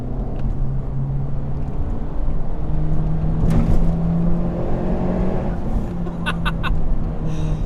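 Honda Civic Type R FK8 Limited Edition driving laps, a steady engine drone from inside the cabin with shifting pitch as it revs and eases, plus occasional road and tyre noise and a few brief clicks.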